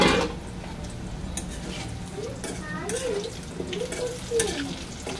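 Something fries in a pan before potatoes are added, a soft steady sizzle with occasional stirring scrapes and clinks against the metal, faint and close, while a voice speaks quietly in the background.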